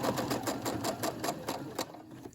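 A Brother SE600 sewing machine stitches a fabric gift bag, a fast steady mechanical chatter of the needle pulsing in regular beats close up before stopping.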